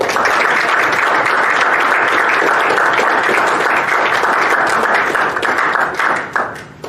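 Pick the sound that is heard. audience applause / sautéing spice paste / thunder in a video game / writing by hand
audience applause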